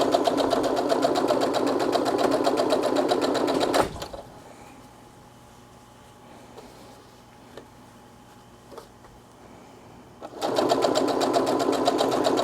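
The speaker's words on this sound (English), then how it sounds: "We're going to just sew the fabric to the Minky for right now." A sewing machine stitches fabric to Minky with silver top thread and white bobbin thread, running fast and steadily for several seconds, pausing amid quiet handling clicks, then starting up again close and loud.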